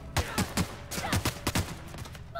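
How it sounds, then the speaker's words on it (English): A rapid volley of gunshots in The Outer Worlds video game, about eight sharp cracks in uneven bursts, loud and close, with no talking over them. "Why are you shooting at me?"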